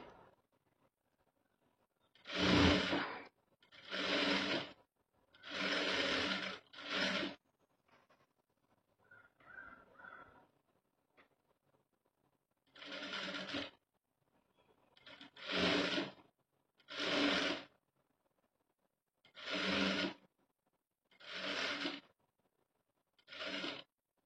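Sewing machine stitching a blouse on a normal straight stitch, running in about nine short bursts of a second or two, separated by brief pauses, fairly quiet and close with no talking.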